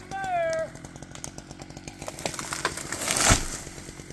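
A chainsaw fells a tall tree while firewood is cut in the Alaska wilderness: a brief shout comes first, then crackling and snapping build into a loud crashing thud as the tree comes down nearby.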